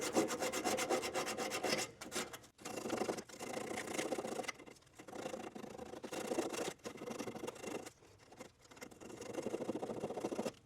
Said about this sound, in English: So I've got a little bit of sandpaper here.